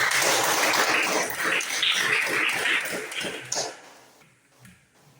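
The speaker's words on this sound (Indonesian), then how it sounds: "Tepuk tangan dulu untuk kita semua." Students clap together in a classroom during a Catholic religious education lesson, a dense burst of hand clapping lasting about three and a half seconds before thinning out to scattered final claps.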